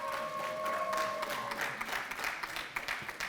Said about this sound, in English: a big round of applause and thanks to them